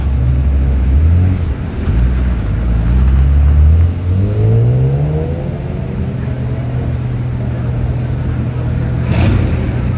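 A car pulls away at the start of a hill climb, its engine loud and close, rising in pitch through the gears as it accelerates, then settling into a steady fading drone with no talking.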